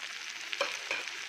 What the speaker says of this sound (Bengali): অলপ সময় ধুনীয়াকৈ ভাজি ল'ম।